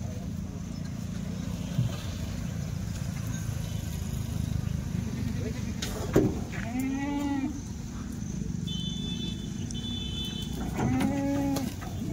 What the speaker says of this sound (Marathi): शेळी.